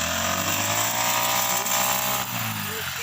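A petrol grass cutter runs steadily as it cuts dry grass in a rice field, with a loud, continuous engine drone close by that holds an even pitch throughout, no one speaking.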